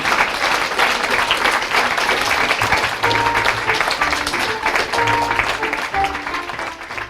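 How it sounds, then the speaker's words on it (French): Applause from a lecture audience for the day's speakers, a dense steady wash of many hands clapping at close range that tapers slightly at the end, with faint tonal sounds mixed in partway through. "On peut applaudir nos intervenants du jour, et Philippe Descola en particulier."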